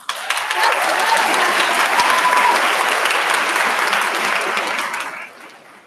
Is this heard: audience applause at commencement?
yes